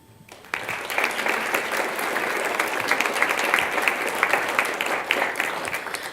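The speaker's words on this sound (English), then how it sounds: "if you would stand so that we can give you a round of applause when you hear me call your name" Audience at a school governing board meeting applauding foundation board members: steady, full clapping from many people that starts abruptly and holds evenly throughout.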